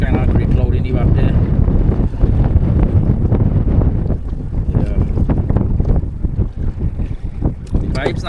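Strong wind gusts buffet the microphone on a fishing shoreline under grey cloud, a loud continuous rushing roar with bursts and lulls, and a voice briefly heard beneath it.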